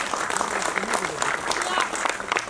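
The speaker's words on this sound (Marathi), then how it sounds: "विशेष टाळ्या तुम्ही स्वतःसाठी वाजवल्या पाहिजेत" Audience applause at a Marathi film trailer launch event, a steady dense patter of clapping from a crowd that carries on throughout, with a voice speaking over it.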